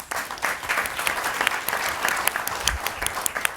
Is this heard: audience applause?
yes